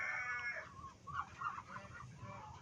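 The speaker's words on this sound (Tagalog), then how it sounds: "Yung mga manok yan, may itlog din dyan." Chickens cluck steadily on a backyard farm where ducks are also kept, a soft, continuous run of close clucks and calls with no voices.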